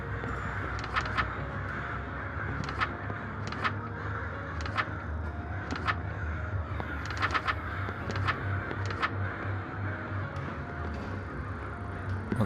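Scattered sharp caws from crows in the horror video game Sucker for Love ring out irregularly over a constant low ambient drone, some calls close together in short bursts.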